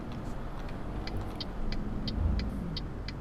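A truck in Euro Truck Simulator 2 drives along with a steady low engine rumble and a faint regular ticking on top, fairly quiet and with no voices.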